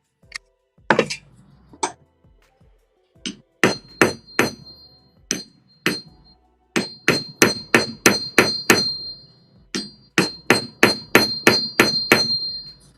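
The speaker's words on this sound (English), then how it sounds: "it takes a long time to hammer something" Metal is hammered into a circle on a jeweler's bench, with sharp ringing blows, first scattered and slow, then falling in quick steady runs, loud and close.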